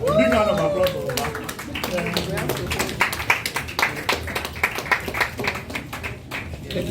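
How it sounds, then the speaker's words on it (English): An audience at a Lagos book launch for the Ooni's House of Oduduwa breaks into applause, the clapping building under a speaking voice and growing into a scattered, uneven patter of many hands. "Big round of applause for that."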